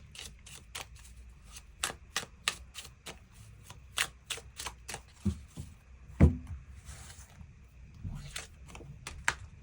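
Tarot cards are shuffled and drawn in a quiet room, a long run of crisp, rapid riffling snaps and slaps at an irregular rhythm, close and moderately loud, with no voice over them.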